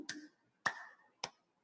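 Three separate hand claps ring out during a guided healing exercise, crisp and spaced evenly at about half-second intervals against near silence.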